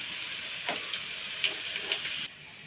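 Garlic cloves sizzling in hot oil with mustard seeds while making tomato pickle, a brief crackling fry with small pops and spits that cuts off abruptly.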